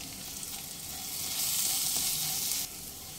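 Tomato cooked with turmeric, chili powder, coriander powder and cumin powder sizzles steadily in a pan for an arhar dal made without onion or garlic. The loud, even frying hiss runs without pause.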